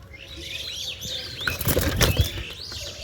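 A pair of quality Teri pigeons flap their wings in quick, close, fluttering bursts that grow louder toward the middle, with a few faint chirps mixed in.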